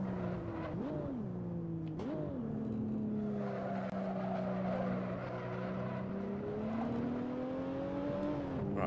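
A race car in Assetto Corsa on the Laguna Seca circuit, its engine droning steadily with pitch swooping up and down through gear changes, and faint tire scrub as it runs wide through corners, close and continuous.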